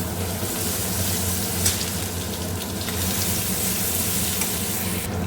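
Spice paste sautéing in oil for a paneer curry gives a dense, continuous sizzle and crackle, close and even throughout, with no talk.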